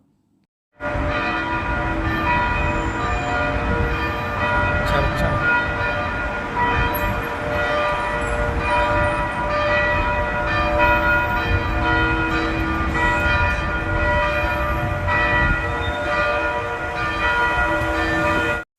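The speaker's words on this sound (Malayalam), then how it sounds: "നല്ല ഒരു രാവിലെയും വൈകുന്നേരമൊക്കെ ഇങ്ങനെ പള്ളിമണിയോട് കൂടിയിട്ടുള്ള ഒരു അന്തരീക്ഷമൊക്കെ എനിക്ക് ഭയങ്കര ഇഷ്ടമാണ്" Church bells ringing in Hungary, a full peal of several bells sounding loud and continuous with rich overlapping tones for nearly twenty seconds, with no talk.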